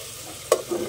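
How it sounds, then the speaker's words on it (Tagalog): Pork pieces sizzle in hot oil in a pan as a utensil stirs them, a steady close fry with a brief scrape and clatter in the middle, no talk. "Ginisa ko muna yung karne."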